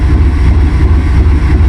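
An old Chevy truck's 350 engine runs rough on stale gas left in the tank, giving a loud, continuous low rumble with a steady throb close by.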